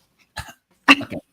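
Two short, dry coughs, the second louder and split into two parts, close up with silence around them.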